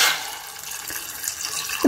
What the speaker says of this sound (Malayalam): ചൂടുവെള്ളമൊന്നുമല്ല കേട്ടോ, സാധാരണ പച്ചവെള്ളം തന്നെയാണ് ഒഴിച്ചു കൊടുക്കുന്നത്.